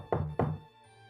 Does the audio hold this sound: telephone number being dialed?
no